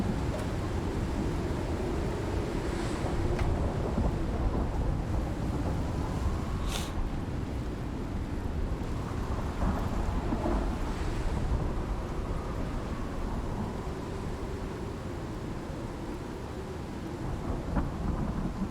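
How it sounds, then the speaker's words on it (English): A thunderstorm rages outside with steady rain and low, rolling rumbles of thunder that fill the whole stretch without a break; nobody speaks. "Sorry for the storm noise,"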